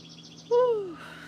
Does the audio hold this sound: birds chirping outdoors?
yes